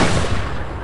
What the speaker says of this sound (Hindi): अब वो उसके डैड पर गोली चला देती है